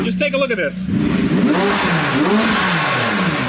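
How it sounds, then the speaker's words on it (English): A rebuilt McLaren 675LT with a roof scoop and turbos, its engine revving hard in rising and falling sweeps, loud and close, after a brief spoken remark at the start. "The needle hardly keeps up with the engine."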